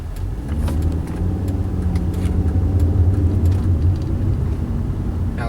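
Turbocharged five-cylinder engine of a 2012 Volvo S60 T5 pulls steadily under acceleration, a loud, continuous drone with rising harmonics heard from inside the car, with no talking over it.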